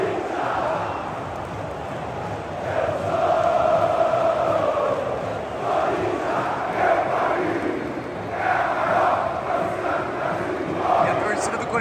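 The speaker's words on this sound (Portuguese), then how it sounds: "E a torcida do Corinthians comemorando como se fosse uma vitória já." Corinthians supporters in a packed stadium at a Copa do Brasil final against Flamengo sing and chant together, a dense, roaring crowd sound that swells and surges throughout.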